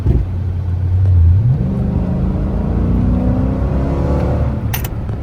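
A Chrysler 300 with an SRT Scat Pack engine swap, running on new rims, pulls hard and accelerates, its engine note climbing steadily in pitch over a loud, continuous road roar.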